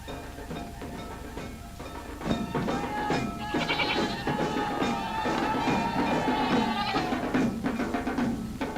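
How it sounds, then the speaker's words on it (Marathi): Goats bleat in a village scene from a 1944 Marathi film, with several wavering, overlapping cries rising through the middle over a constant hissy old-soundtrack background. "मेली बकरी का ओरडतात"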